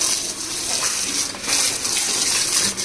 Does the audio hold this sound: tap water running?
yes